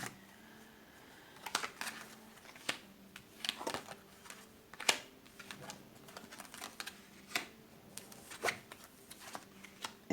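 Tarot cards shuffled by hand in a quiet room, a run of soft riffling flicks and crisp card snaps that come in irregular bursts across the whole stretch, close and fairly faint, with no one talking.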